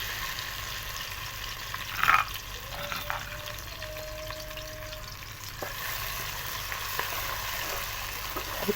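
One finely chopped onion softens while frying in a pan for aloo matar masala, a quiet, steady sizzle with a few light clicks and scrapes from stirring, heard close with no talk.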